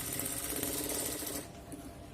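A sewing machine runs a top stitch along folded fabric for a Rajputi kanchali blouse, a dense rapid mechanical whir close by that cuts off partway through, leaving faint motor hum.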